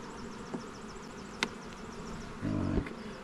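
Honeybees from young nucs buzz around a sugar bucket, a steady insect drone with a few sharp close passes and a louder thump near the end.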